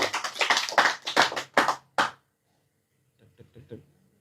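Crowd at an Indonesian religious study gathering clapping together in a quick rhythmic pattern of about eight sharp bursts. A short pause follows, then a few fainter claps.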